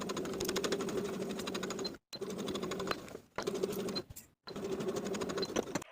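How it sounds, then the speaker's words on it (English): A sewing machine stitches the crotch seam of lined cigarette pants with a half-inch seam allowance, running in steady bursts with brief stops between them, close and alone. "Sew with a 1/2 inch seam allowance."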